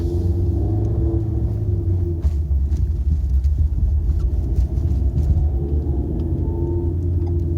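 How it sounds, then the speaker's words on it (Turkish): A naturally aspirated 1.6 petrol engine in a Renault Megane rumbles steadily while driving, a deep continuous drone heard from inside the car with no talk. "Motor sesi de böyle homurtu şeklinde."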